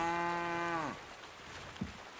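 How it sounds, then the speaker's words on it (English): A cow in the medieval video game Kingdom Come Deliverance 2 lets out one long, loud, close moo that drops in pitch and fades, followed by quiet ambience. "That'd be a loud cow."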